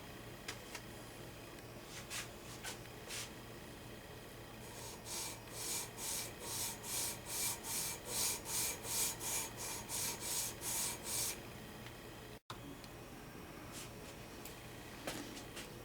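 A guitar saddle for a Gibson SJ-150 is sanded on a 12-inch radius block, giving a close, quiet run of rhythmic back-and-forth rasping strokes with a brief pause before faint scraping resumes.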